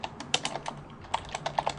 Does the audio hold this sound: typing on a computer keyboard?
yes